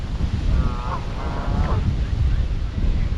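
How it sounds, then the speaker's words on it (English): Geese honk outdoors by a garden area near a beach, giving two short nasal calls at moderate distance over steady wind rumble. "We got the geese."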